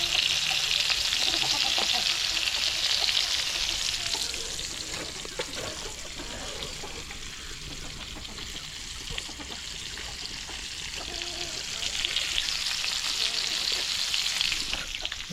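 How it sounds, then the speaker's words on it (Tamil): Fish fries in a pan over a firewood stove in a village kitchen, giving a continuous close crackling sizzle that swells and eases slightly over time with occasional stirring and spattering. "பார்த்தீங்கன்னா மீனை விறகடுப்பில் வறுத்துட்டு இருக்கிறேன்."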